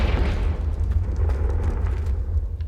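A Confringo fire spell blasts in Hogwarts Legacy, a loud, sustained, rumbling explosion with heavy low-end boom and crackle that holds steady throughout.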